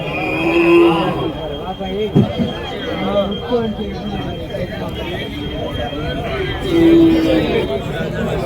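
Bull calves at a large country cattle market in Matrapalli, Tirupattur, lowing over a busy crowd, with two clear moos standing out and people talking throughout.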